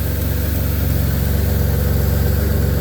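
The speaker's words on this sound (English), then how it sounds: "She's idling down." A Pontiac G6 engine idles steadily close by, a constant low rumble with an even, unbroken drone throughout and no talking.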